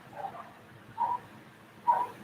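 Three faint dog barks from some distance away, spread roughly a second apart with quiet background between them and no voices.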